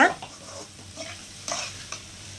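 Egg stir-fry (muttai poriyal) being stirred in a pan over a high flame: a few quiet scraping strokes with a faint sizzle underneath, no voices.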